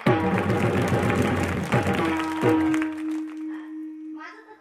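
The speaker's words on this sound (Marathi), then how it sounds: "ह्या कमिटी मंडळीसाठी एकदा जोरदार टाळ्या" Applause for a village committee at a gathering, a dense patter of clapping blended with sustained musical tones, which thins out and fades after a few seconds, leaving a lingering drone.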